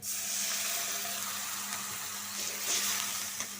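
Water hits a pan of frying rohu fish pieces, setting off a close, steady sizzling hiss that holds fairly even with slight swells.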